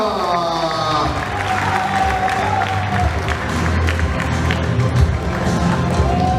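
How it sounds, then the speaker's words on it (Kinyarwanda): An audience at an award ceremony applauds and cheers loudly and continuously, with a voice speaking over the crowd noise. "Tumwongera amashyi menshi cyane Rwema."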